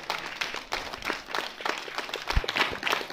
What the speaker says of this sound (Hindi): तो तालियां बजती रहनी चाहिए।